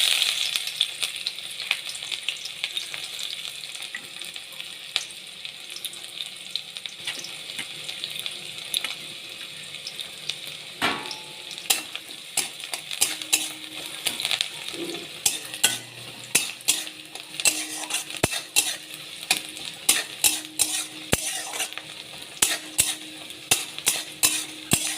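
Chopped onion fries in a pan with a continuous crackling sizzle, broken by frequent sharp metallic clinks and scrapes of stirring that grow busier toward the end; no one speaks.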